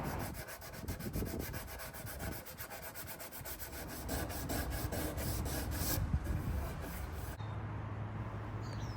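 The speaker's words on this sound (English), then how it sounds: "I had to use every sander available to me to reach all of the hard-to-get areas." Abrasive sanding on a mid-century wood furniture piece with veneer, a steady close rasping with a fast regular buzz. The texture shifts near the end as the sanding changes.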